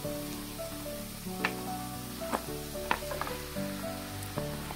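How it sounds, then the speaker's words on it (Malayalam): Potato sautéing and being stirred in a pan for Mysore masala dosa filling, a steady sizzle with several sharp scraping knocks of the spoon against the pan, fairly close with no talking. "ഇനി ഇതിലേക്ക് നമുക്ക് ഈ പൊട്ടറ്റോ ചേർത്ത് കൊടുക്കാം."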